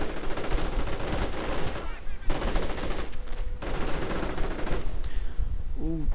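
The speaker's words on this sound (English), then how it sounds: "Assault rifles tearing through them." Rapid assault rifle fire in a World War II strategy video game, loud, dense bursts of overlapping shots with brief gaps and distant explosions mixed in.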